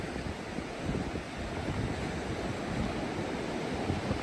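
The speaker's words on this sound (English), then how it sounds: "Some beautiful waves." Ocean waves wash onto a rugged Pacific coastline in Olympic National Park, a continuous broad surf roar mixed with wind buffeting, steady and fairly loud throughout without voices.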